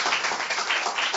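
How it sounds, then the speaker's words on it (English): Dense audience applause at an award ceremony, a continuous wash of many hands clapping together, fairly loud and close, with no talk over it. "Let us give her a better round of applause."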